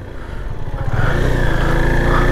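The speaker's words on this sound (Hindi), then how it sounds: "खासकर मेरी बाइक के लिए बहुत ही ज़्यादा स्लिप हो रही है, स्किड हो रही है बाइक" A motorcycle rides through deep snow near Doodhpathri while slipping and skidding. The close, steady engine drone swells louder after the first second and holds a rising revving tone.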